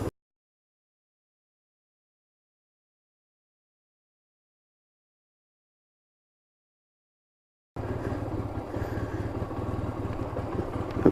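A motorcycle engine starts up abruptly after a long silence and runs steadily close by, a rough low rumble holding for the last few seconds with no other sounds.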